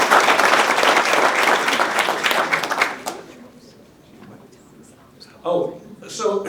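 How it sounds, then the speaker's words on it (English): An audience at a hosted dinner event applauds loudly for about three seconds with dense clapping, which fades to scattered claps and a few brief voices. "Let's have a round of applause for our wonderful team."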